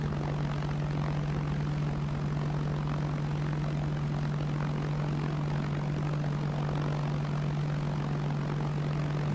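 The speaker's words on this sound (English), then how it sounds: "He's just taxiing the aircraft into a decent position to take off" A propeller aircraft in Arma 3 drones with a steady, loud engine hum and a constant low tone as it taxis into position for takeoff, with no voices over it.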